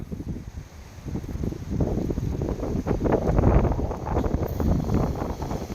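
Steady wind roars and buffets the microphone aboard a large boat out fishing on open water, a continuous rushing noise swelling and easing without talk.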